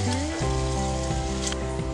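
A chapathi frying in hot oil for kothu chapathi gives a dense, constant sizzling hiss, close and fairly loud, with music playing underneath.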